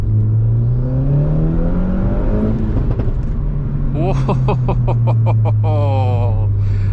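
An Audi S1's engine blips and rises in pitch on a downshift to second gear, then revs sharply several times with a rasping exhaust note, loud and close, with a person talking over it.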